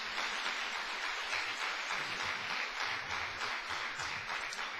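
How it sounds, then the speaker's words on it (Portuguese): A church congregation giving a round of applause, steady dense clapping from many hands heard at a moderate distance, sustained throughout. "Quantos podem dar uma salva de palmas para o Senhor Jesus?"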